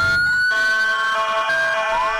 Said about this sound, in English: It began with a chorus of sirens.